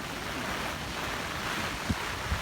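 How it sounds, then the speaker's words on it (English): Typhoon Hagibis wind gust sweeping through Tokyo, a steady broadband roar of rushing air buffeting the microphone, with a couple of brief low thumps near the end. "Oh, here comes a wind gust."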